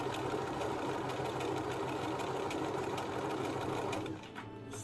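A sewing machine stitches a fabric Christmas tree with a steady, rapid mechanical whir and clatter, running continuously up close before slowing near the end.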